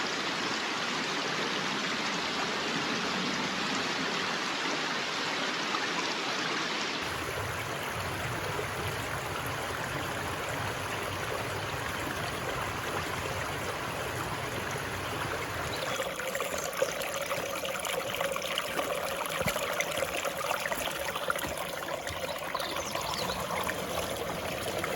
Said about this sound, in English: We live by the stream.